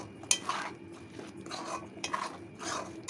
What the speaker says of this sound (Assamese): এতিয়া লৰাই দিওঁ ভালকৈ